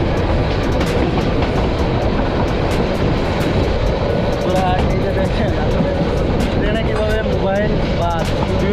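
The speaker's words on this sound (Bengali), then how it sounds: "যখন ট্রেনটা ছেড়ে দেয়" Passenger train on the Dhaka to Chittagong line pulling away, a loud continuous rumble and wheel clatter heard from aboard, with a few squeals and brief faint voices mixed into the steady roar.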